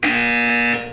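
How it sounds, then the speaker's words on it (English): A loud buzzer alarm from the Portal 2 video game sounds as a single steady, harsh electronic tone lasting about a second before cutting off. "You will hear a buzzer."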